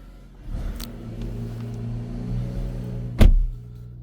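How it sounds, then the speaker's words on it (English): A 2020 BMW X5 45e M Sport petrol plug-in hybrid starting up, with a steady low hum rising, a brief sharp click and a short louder surge near the end before settling back. "start the car up"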